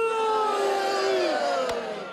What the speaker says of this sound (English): Oh man, the crowd is turning on her.